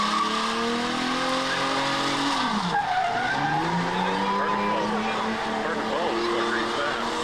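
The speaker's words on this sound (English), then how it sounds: "launching into the power-driven diesel burnout pit." An Infiniti G37 does a burnout in a diesel truck festival burnout pit, tires squealing loudly and continuously with wavering pitch that dips sharply midway, over engine roar and an announcer's voice.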